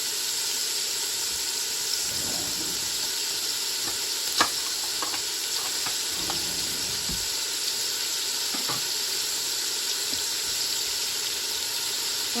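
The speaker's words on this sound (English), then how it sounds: "We're going to start the meat on the stove." Ground beef and Italian sausage sizzle steadily in a pan on a stovetop, a constant loud frying hiss broken by a few faint utensil clicks and stirring sounds, with no talking.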